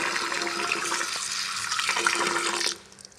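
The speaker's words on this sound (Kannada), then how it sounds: "ಸ್ವಚ್ಛಂಗೆ ಅಕ್ಕಿ ತೊಳ್ಕೊಂಡ್ಬಿಡ್ತೇನೆ ರೀ" Running water splashes and swirls for a few seconds as rice, a mix of ration rice and thick rice, is washed for akki rotti, then it stops abruptly and a little dripping remains.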